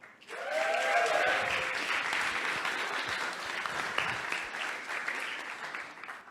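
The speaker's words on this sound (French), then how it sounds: "on applaudit le projet K-Buddy qui a été développé par Tan, Florian, Andrew et Edouard" An audience applauds the K-Buddy project, a French-Vietnamese training app, with sustained clapping throughout and a brief tonal sound and some voices near the start.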